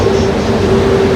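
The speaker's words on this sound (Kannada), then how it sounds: "ದಿನ ಆದ್ಮೇಲೆ ಟ್ರೈನ್ ನೋಡಿದೆ" A train rolls past in a steady, continuous rumble with a sustained tonal hum, heard up close and loud throughout with no pauses or talk.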